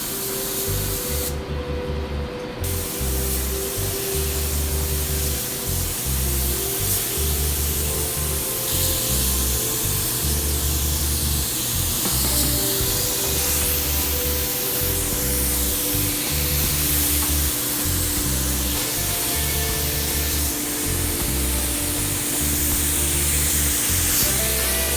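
Long continuous hiss of a spray gun laying a first coat of paint on a Nissan 240SX, a loud close spray over a pulsing compressor hum with brief pauses and small shifts in tone.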